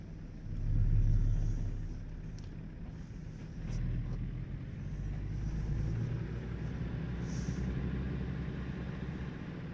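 Truck engine pulling in gear in American Truck Simulator, a low, soft rumbling drone that swells briefly near the start, then runs steady and quiet.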